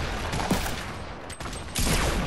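FAMAS rifle fire in a build-fight video game comes as dense, rapid bursts of loud gunshots, continuous for a couple of seconds with a brief gap.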